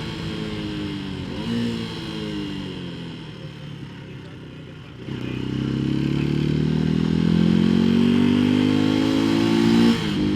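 Janus Halcyon 250 motorcycle heard while riding, its single engine droning steadily then climbing in pitch under acceleration after a gear change, loud and close with wind noise throughout.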